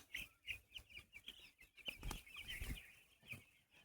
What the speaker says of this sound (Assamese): 8 দিনৰ মুৰ্গী এইটো।